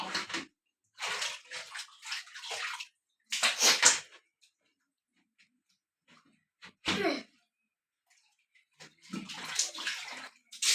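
A child plays in water, sending up short bursts of splashing and sloshing separated by quiet pauses, close by.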